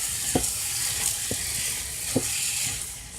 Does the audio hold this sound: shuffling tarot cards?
no